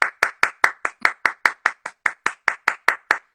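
A single person claps their hands in steady, even applause for a cast of stage actors in a Coriolanus performance, about sixteen crisp, close claps in a row with no voices.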